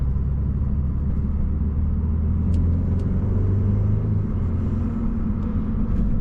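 A rear-wheel-drive convertible with a cold air intake cruises along, its engine a steady low rumble with a few faint burbles, continuous and close, with no talking.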